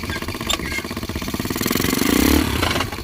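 A homemade tractor built from a motorcycle engine runs loud and close with a steady throbbing idle. The engine swells slightly as it revs near the end, alone with no talk.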